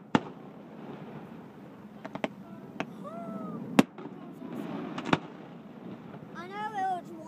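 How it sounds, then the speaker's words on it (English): Fireworks burst over Lake Arthur during a Christmas festival, with several sharp, booming cracks at uneven intervals, some near and some distant. Whistling shells rise near the end over a soft outdoor hum and faint voices. "they set off fireworks everywhere"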